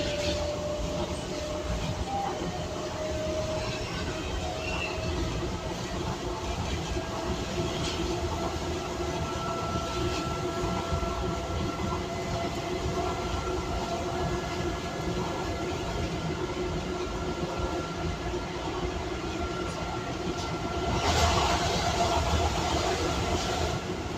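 Docklands Light Railway train riding out of Canary Wharf, a steady onboard rumble of wheels and motor hum with a faint whine, continuous for the whole stretch and swelling briefly near the end.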